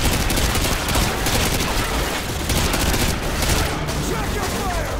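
Sustained machine-gun fire and scattered shots crackle throughout a firefight at a house in Call of Duty Modern Warfare 2, with L86 machine guns among the weapons, steady and dense for several seconds.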